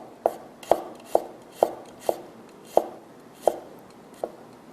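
A knife thinly slices garlic on a cutting board in eight crisp, evenly spaced taps, each a sharp click against the board in a quiet setting.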